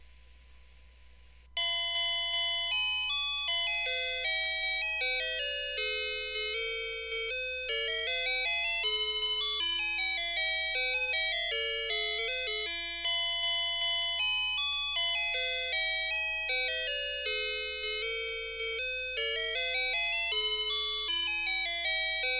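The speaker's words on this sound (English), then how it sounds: "You will hear your recorded message followed by one of the three songs stored in the IC." An electronic melody chip from a record-and-playback message circuit plays a stored song, a steady stream of thin, bright, beeping tones in a bouncing tune, loud and close with no talk.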